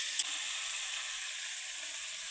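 Potatoes that were fried earlier go into a hot pan of frying chickpeas, giving a steady, loud, close sizzle that runs unbroken, with one small clatter near the start.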